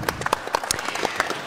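A short burst of scattered hand clapping from an audience, quick, uneven claps fading out after about a second.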